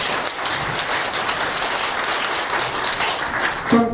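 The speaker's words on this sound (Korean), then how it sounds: "큰 박수 부탁드리겠습니다" An audience at a market merchants' association debate for Suwon mayoral candidates applauds steadily, a dense, even wash of many hands clapping that holds at full strength and ends with a brief voice.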